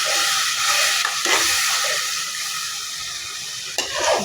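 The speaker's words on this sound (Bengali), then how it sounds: "মশলাগুলো দেওয়া কমপ্লিট হয়ে গেলে আমি এখন ভালো করে কষা ফেলবো।" Vegetables and spices being stir-fried in a pan for a fish curry, a steady close sizzle and hiss with scraping stirs and one sharper clatter near the end.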